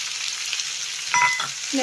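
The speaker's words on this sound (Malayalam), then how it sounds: "നല്ലപോലെ ഇളക്കാം കുറച്ച് നേരം ഇളക്കി" Tomato and curry leaves frying in hot oil and being stirred in a pan, a steady close sizzle with a brief scrape of stirring midway and no talking.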